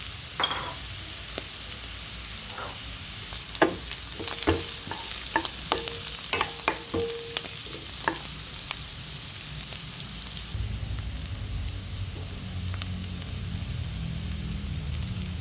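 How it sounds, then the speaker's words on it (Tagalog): Tofu and pechay sauté in a pan, with steady close sizzling broken by several spatula scrapes and clinks in the middle and a deeper rumbling fry toward the end. "Pwede ko na ilagay ang tofu. Lagay ko muna yung tofu."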